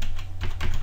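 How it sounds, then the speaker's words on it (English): Someone types on a computer keyboard while entering a search term on a website, with several quick, close key clicks in a short burst and no talk. "I'll start typing in mountain."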